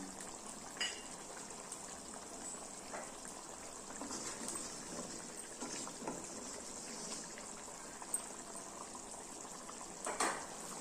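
Thick egg gravy bubbles and simmers steadily in a pan, a continuous soft hiss with occasional pops, close by and without speech.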